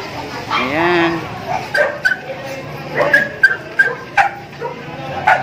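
Dogs yip, whimper and bark in short bursts close by at a vaccination event, mixed with a person talking.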